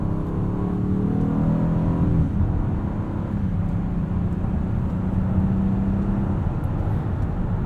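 The V6 engine of a 2021 Honda Odyssey Elite minivan accelerates in a steady, moderately quiet hum heard from inside the cabin, its pitch easing down after a couple of seconds before the drone carries on evenly.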